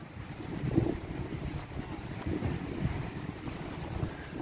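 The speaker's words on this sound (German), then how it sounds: "Das ist der Wind, den wir an der anderen Stelle hatten." Wind gusts across a beach at Playa Rincon, buffeting the microphone with low rumbling bursts, close and fairly steady throughout with no talking.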